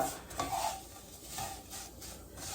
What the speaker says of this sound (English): At this point, you want to keep stirring because it's browning as you're going.